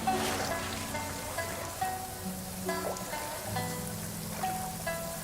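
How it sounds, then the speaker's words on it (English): Steady rain falls in the game Genshin Impact, a close, even patter of drops on surfaces with a light trickling wash running throughout, alone and without talk. "Rain."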